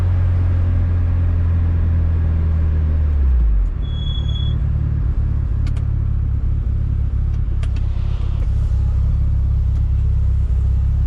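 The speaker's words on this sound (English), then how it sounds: "When you're wide open throttle and you're listening to the exhaust at the back of the car, because it's not a loud blaring noise, it's actually a very nice tone." A Mitsubishi Lancer Evo 8 engine drones with a deep, smooth exhaust tone heard from inside the car, its pitch dropping after a few seconds before settling into a steady low rumble.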